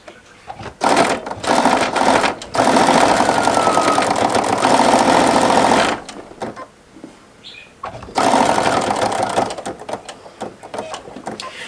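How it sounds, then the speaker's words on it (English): A sewing machine stitches fabric scraps for a quilt in loud, rapid mechanical bursts, running for several seconds, pausing briefly, then starting again close by, with no voices. "So all I'm going to do is to continue sewing it all the way down."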